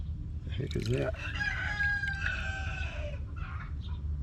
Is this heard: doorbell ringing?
no